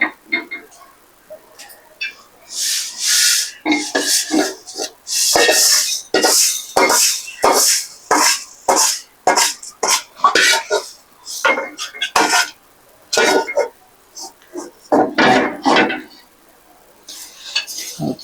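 Roasted ingredients for murungai keerai (drumstick leaf) halwa are tipped into a vessel, with repeated scraping and clinking of a metal spoon against the pan, loud and close, in irregular bursts.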